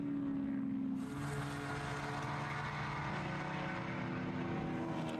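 A BMW race car at an SCCA Lightning Challenge circuit race, its engine a steady continuous drone mixed with other track noise, fairly loud and constant throughout with no talk over it.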